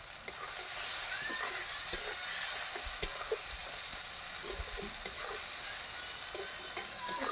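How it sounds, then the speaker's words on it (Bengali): Tilapia masala with salt and turmeric sizzles steadily in hot oil in a pan, stirred with occasional sharp scrapes and clicks of a spatula, close and continuous with no voices. "ভালো করে কষে নেবো"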